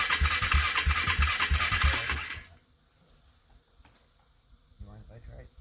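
Cold first start of an engine, loud rhythmic cranking with rapid chugging pulses for about two seconds, then it cuts out to near silence with faint scattered noises and brief speech near the end.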